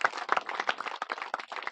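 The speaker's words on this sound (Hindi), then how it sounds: "बाकी लिए एक बार जोरदार ताली होनी चाहिए" Applause at a village cricket tournament: a short burst of clapping from a small crowd, uneven and fairly close.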